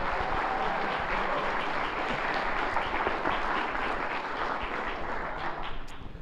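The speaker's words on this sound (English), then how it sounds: "can we get another round of applause for the Black Tape Catalog?" An audience applauds at a live entertainment premiere show, a dense steady wash of many hands clapping that holds loud and even, easing slightly at the very end.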